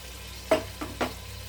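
Chicken pieces stirred through biryani masala in a frying pan, three distinct scraping stir strokes over a soft steady sizzle, close and fairly quiet.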